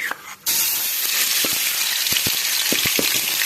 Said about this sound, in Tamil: இப்ப 1 டேபிள் ஸ்பூன் அளவுக்கு இஞ்சி பூண்டு பேஸ்ட் சேர்த்துக்கலாம்